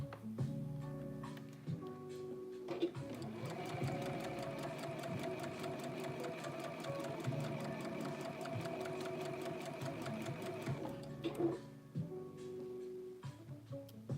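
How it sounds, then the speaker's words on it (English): A sewing machine stitches around a sweatshirt in one steady, fast run of several seconds, with quieter starts and stops at either end and no talking. "But I'm definitely going to take my sweet old time sewing around this."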